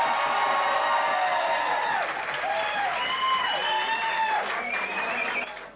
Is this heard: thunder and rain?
no